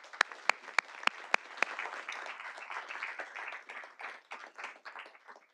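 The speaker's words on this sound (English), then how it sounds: "Let's give them a round of applause." Audience applause at a city board of directors meeting, opening with a few sharp, separate claps that swell into steady moderate clapping from a modest crowd before fading.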